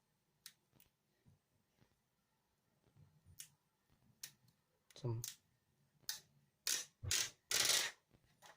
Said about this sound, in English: Yeah, that's plastic by that noise.